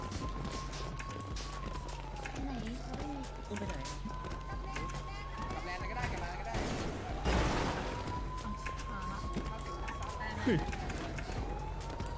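A police siren wails up and down steadily in the background while people shout and move around nearby during a street fight in Bang Na, Bangkok, with hurried footsteps and a sharp bang.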